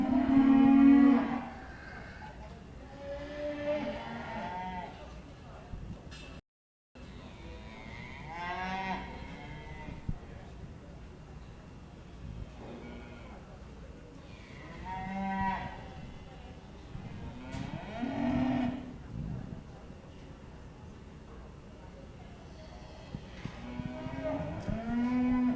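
Irish Dexter cattle mooing in a livestock show ring at a national stock show, repeated long lowing calls from several animals, some near and loud, others farther off, with a brief break partway.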